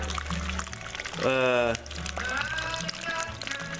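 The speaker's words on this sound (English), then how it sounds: "we'll recirculate it back in" Wort poured from a jug back into the mash to recirculate during an imperial IPA brew day, with a steady liquid pour that swells into a brief rising fill tone, then settles into trickling under a quiet voice.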